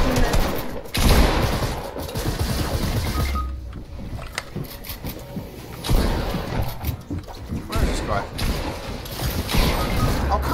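Rapid bursts of video game gunfire from a pump shotgun and a submachine gun crackle in quick clusters, loud and sharp, with no voices over them.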